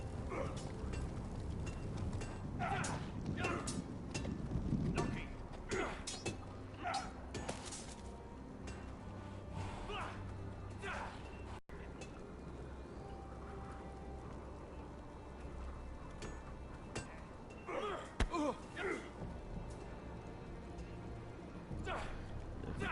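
Horse hooves clip-clopping in a Game of Thrones video game, a quiet, irregular walking rhythm mixed with game sound effects and occasional speech.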